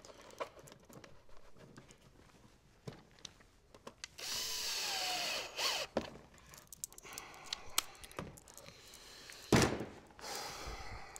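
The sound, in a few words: power drill driving screws into baby jumper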